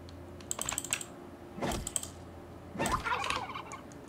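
A turkey in the survival game Last Day on Earth gobbles in several short, rough bursts close by, with no talking.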